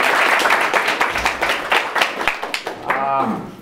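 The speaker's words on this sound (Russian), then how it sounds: "Давайте похлопаем ему." An audience in a negotiations class claps for a guest, a brief burst of close, dense clapping that thins into a few scattered claps and fades as a voice begins speaking.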